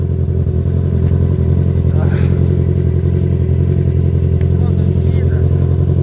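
Sport motorcycle engine idling and pulling away on a snowy road in winter, a loud, steady mid-pitched engine drone up close with faint clatter over it.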